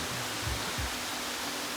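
Steady broadband rush of waterfalls beside the Appalachian Trail, a constant even roar filling the whole clip with a couple of brief low thumps, no voices.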